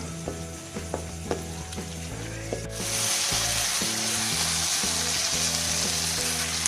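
Keema with capsicum frying in a pan: a close, steady sizzle punctuated by clicking spoon scrapes and a faint mechanical hum, swelling into a louder, fuller hiss midway, with no talking.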